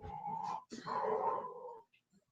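A dog whimpers and whines in two drawn-out, nasal cries separated by a short gap, close and fairly quiet, with no talking.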